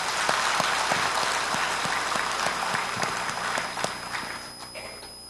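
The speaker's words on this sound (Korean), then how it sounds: "오늘 하나님 앞에 귀한 찬양으로 영광 올려드린 우리 할렐루야 찬양대 하나님께 영광 올려드리면서 박수로 한번 축복할까요?" A church congregation applauds its choir after a hymn, with scattered individual claps that grow into a dense round of clapping in a reverberant hall before thinning out near the end.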